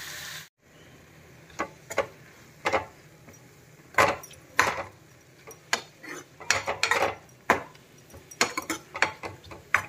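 Tomatoes being stirred and roasted in a pan for South Indian rasam, with a spoon clinking and scraping against the metal in irregular bursts, close and moderately loud, with no talking.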